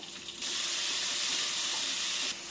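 Onions fry in hot oil for chicken fry piece biryani, a loud steady sizzling hiss that surges in and holds for about two seconds before easing off.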